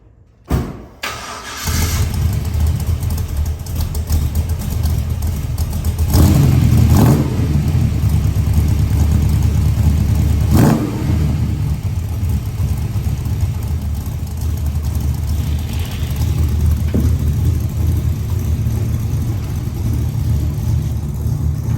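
A 1966 Chevy Caprice with a BTR Stage 3 cammed LS1 fires up, then settles into a loud, lumpy idle and rumble, with a couple of sharp revs rising out of the steady engine sound.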